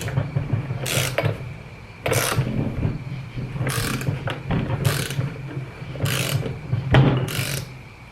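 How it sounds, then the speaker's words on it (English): A ratchet tightens a nylon nut during an AirDog II 4G fuel system install on a third-generation Dodge Ram Cummins pickup. Close, crisp bursts of clicking repeat about once a second as the handle swings back and forth. "I'm going to use a ratchet."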